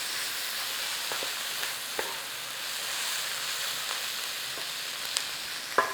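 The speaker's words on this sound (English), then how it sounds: "get a little bit of golden on the onions if you can" Onions and peppers frying gently in a pan, a soft even sizzle that holds steady at low volume, with a few faint clicks and light stirring taps scattered throughout.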